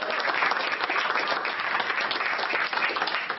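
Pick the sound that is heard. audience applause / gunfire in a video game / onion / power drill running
audience applause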